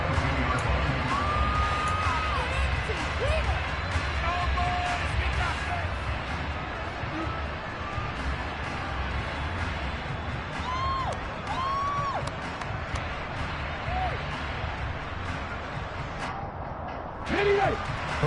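The home crowd at a playoff football game between the Eagles and their opponents roars steadily, with a broad sustained rumble of cheering and scattered whistles and shouts beneath a commentator speaking throughout.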